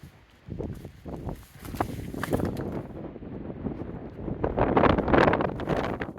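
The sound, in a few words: strong wind near a steep hilltop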